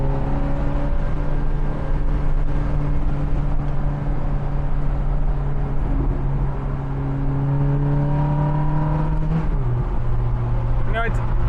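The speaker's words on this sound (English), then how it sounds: "Just trying to warm up the engine a bit" A Lamborghini Gallardo engine idles near and loud with a steady low drone, its pitch dipping briefly before a short rev near the end.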